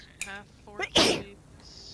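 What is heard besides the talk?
sneeze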